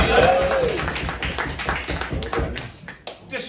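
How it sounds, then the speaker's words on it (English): A small audience claps for Rupert, with a handful of distinct close claps and sparse taps rather than a full ovation, mixed with a voice and some laughter-like sounds early on. "Round of applause for Rupert."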